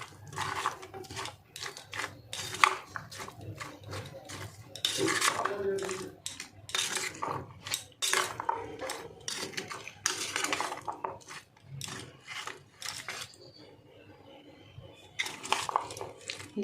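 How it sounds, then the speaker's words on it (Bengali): Capsicum being mixed by hand with katla fish pieces in a bowl, producing irregular clinks, knocks and wet squelches in uneven bursts with short quiet gaps, close and moderately loud. "এবার ক্যাপসিকামটাও দিয়ে দেবো। দিয়ে একটু মিশিয়ে নেব।"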